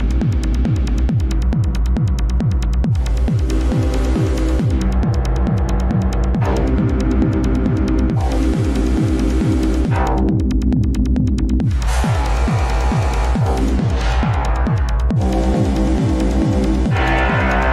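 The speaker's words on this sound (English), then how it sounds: "This is just one sample and one example of this interesting kind of physics-based modulation of a granular synthesizer." A Max for Live granular synth plays techno with physics-based modulation: a loud, pulsing low throb repeats rapidly throughout, while bursts of bright, grainy texture switch on and off in uneven blocks.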